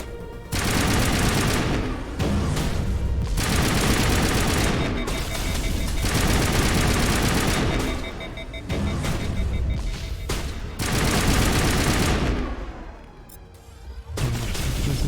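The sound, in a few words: high explosive rounds gunfire in Mass Effect video game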